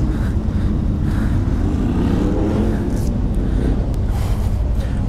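A Yamaha Ténéré T7 motorcycle is ridden, its engine a loud, steady drone mixed with wind rush close by, continuous for the whole stretch with a voice faintly underneath.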